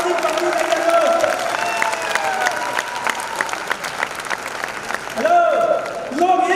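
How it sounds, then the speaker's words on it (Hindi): An audience breaks into applause at a school speech event, a crowd of clapping with some cheering rising under and between voices, fading briefly before swelling again near the end. "आज रूरल सर के लिए एक जोरदार ताली पकड़ी जाएगी दोस्त।"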